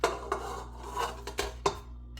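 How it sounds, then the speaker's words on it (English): Butter being creamed in a bowl for a Mile High Sprite pound cake, with several sharp clinks and scrapes of a utensil against the bowl at irregular intervals over quiet background hum. "we're going to go ahead and cream our butter"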